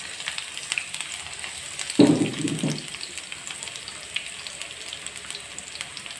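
Chopped garlic hits hot olive oil in a pan with a sudden close sizzle that swells briefly and then settles into a faint hiss, with no talk over it.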